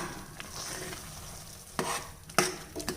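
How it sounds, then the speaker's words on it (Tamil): A utensil stirs a sizzling vegetable curry mixture in a pan, with soft scraping and a few sharper clanks against the metal over a steady fry. "இப்போ இந்த கலவையை சேர்த்ததுக்கப்புறம் இதை நல்லா கலந்து விட்டுக்கலாம்"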